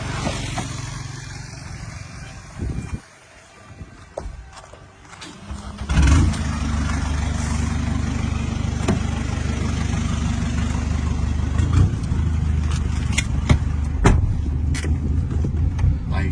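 A 1.9-litre pickup truck with a full aftermarket exhaust sits at idle, revs once with a short gap, then holds a loud, deep, rumbling drone close by as it pulls away, with a few sharp clicks and no voices.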